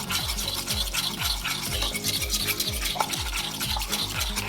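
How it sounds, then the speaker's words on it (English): An apple cider vinegar salad dressing is whisked briskly in a bowl, with quick, regular scraping strokes repeating evenly at close range and no voices. "Okay, so just whisk this really well."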